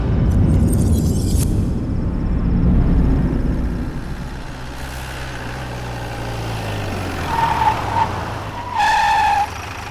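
A car drives with a rough, rumbling engine, then the motor sputters and falters as it breaks down, leaving uneven low churning followed by a few sharp tonal beeps near the end.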